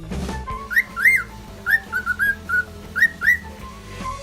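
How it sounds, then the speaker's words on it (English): A pet cockatiel gives a series of short, bright whistled phrases, rising and falling in clustered bursts, clear and close against a faint background. "No bird lover's aviary can be complete without a cockatiel."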